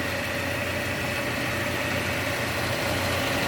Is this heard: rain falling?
no